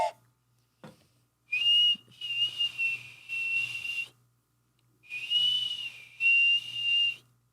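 A person whistles several tones at once, imitating a train whistle, in two separate bursts of held, wavering notes, close and fairly loud, with quiet pauses between them.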